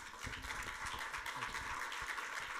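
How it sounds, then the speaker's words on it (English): An audience applauds a veterans service panel, with steady, dense clapping that fills the room at moderate volume and carries on without a break. "can we have a round of applause for our panelists?"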